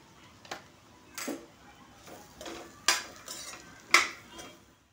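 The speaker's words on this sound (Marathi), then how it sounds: "छान असं मिक्स करून घ्यायचं" Spatula stirring mixed vegetable curry in a pan, producing five or six separate scraping clinks spaced about a second apart, fairly quiet overall.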